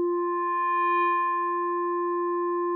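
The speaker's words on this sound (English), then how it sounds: "I could set up this operator right here to slowly fade in, or kind of fade in a kind of more complex sound" Steady FM synthesizer tone built from one operator set to fade in slowly, a pure held pitch with a few bright overtones that swells gently and sustains at moderate level, alone with no voices.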